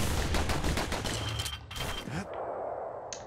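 Rapid gunfire in the video game Bastion rattles off in a quick burst of shots, followed by a sharp whoosh and fading electronic tones.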